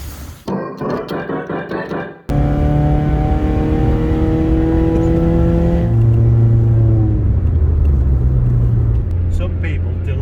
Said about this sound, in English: I think that exhaust is probably a little bit louder than it's supposed to be.